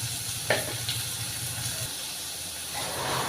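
Crushed ginger and garlic fry in a pan for an eggplant and chana dal curry, giving a steady close sizzle with a few sharp spits and crackles. No one speaks over it.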